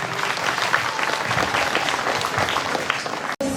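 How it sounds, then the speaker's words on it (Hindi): Audience applauding after a chief guest is honoured with a shawl at a St. Patrick's School science, arts and craft exhibition in Gumla; dense, steady clapping from a large crowd fills the whole stretch, cutting off abruptly near the end. "जोरदार तालियां हो जाए।"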